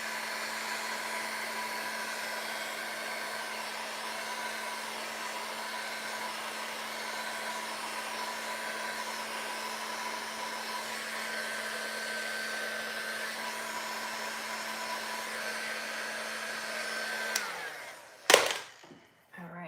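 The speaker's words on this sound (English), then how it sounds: "When you're using a heat gun, you are drying the paint." A heat gun drying furniture paint runs with a constant airy whir and a steady hum for most of the stretch, then cuts off, followed by a few brief clattering handling sounds.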